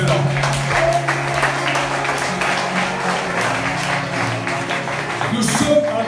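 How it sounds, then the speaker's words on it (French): A church congregation applauding, a crowd clapping steadily at moderate distance with voices mixed in and a louder swell near the end. "Acclamons le Seigneur pour cela."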